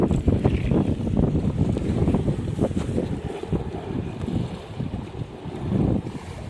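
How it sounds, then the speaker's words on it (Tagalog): Strong ocean waves surge on a beach under heavy wind buffeting the microphone, giving a loud, rumbling, continuous roar that swells and eases, with no speech. "Lakas yung alon."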